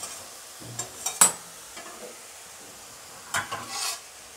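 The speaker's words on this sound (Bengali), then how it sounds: "আর একটু ভাজা ভাজা হোক" Fenugreek greens with eggplant frying in a pan: a quiet sizzle under a few sharp stirring scrapes and clacks, spaced irregularly with a pause in the middle.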